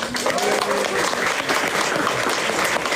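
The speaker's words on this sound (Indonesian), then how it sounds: "boleh kasih tepuk tangan" Applause from an audience at a fifth-anniversary celebration, dense and steady for the whole stretch, with a voice talking over the clapping.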